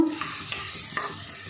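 Garlic cloves fry in a pan with a soft steady sizzle, broken by a few light stirring scrapes and clicks of a utensil against the pan; no voices.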